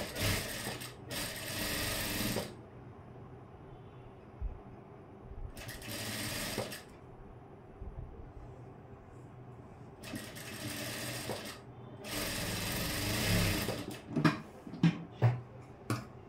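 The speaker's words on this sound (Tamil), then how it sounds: "அடித்து முடித்ததுக்கப்புறம் இங்கே வந்து ஹை பட்டி தைக்க ஆரம்பிச்சிடுறேன்." A home sewing machine stitches a blouse in several loud, close bursts of whirring separated by quiet pauses, with a few clicks and taps of fabric handling toward the end.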